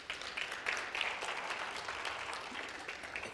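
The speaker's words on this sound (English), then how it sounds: "can we just give our team a round of applause?" Dense, continuous clapping from a seminar audience, fairly faint and distant, holding steady throughout without pause.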